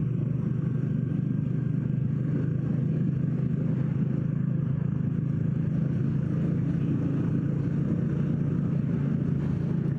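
A motor vehicle is driven on a rough off-road route, giving a continuous loud low engine drone with rattling and clatter and no voices.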